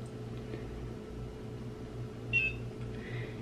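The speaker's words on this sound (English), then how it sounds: "You just glide it on your face until you hear the beep." A handheld facial beauty device, glided over the face, gives a single short electronic beep once over a quiet background hum, brief and fairly faint.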